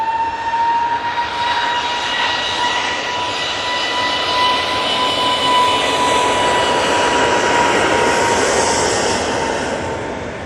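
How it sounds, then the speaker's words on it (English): An easyJet jet airliner rolls down the runway on takeoff at Manchester Airport, a loud sustained engine roar with a steady whine, heard alone without talk. "Easyjet, now on the roll."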